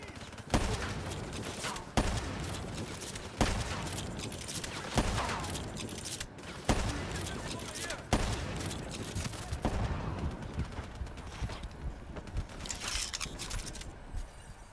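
Weapon fire in Call of Duty Black Ops 3, a series of loud, regularly spaced heavy shots about every one and a half seconds, each with a sharp attack and a rumbling tail, over constant battle noise.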